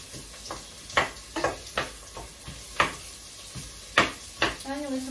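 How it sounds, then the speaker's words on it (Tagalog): Onions hitting a hot pan and sautéing, with a low sizzle under a series of sharp clinks and scrapes of a spatula against the pan, close by; a brief voice-like tone appears at the end. "So, magsasatay na tayo ng sibuyas."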